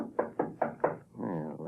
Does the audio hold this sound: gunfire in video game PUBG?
no